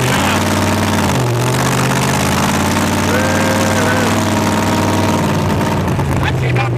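A 1915 Ford T-Bucket hot rod with a 750-horsepower small block V8 idles steadily nearby with a deep, loud rumble, while people talk over it.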